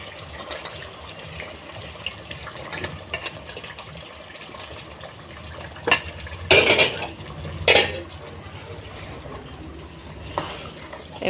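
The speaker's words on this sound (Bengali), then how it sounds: "এই যে এখন দিয়ে দিচ্ছি মাংসটা আমি।" Washed meat goes into a pan and is stirred, with wet sizzling, splashy scraping and a few sharp clatters of utensil on metal, close by over a steady background hiss.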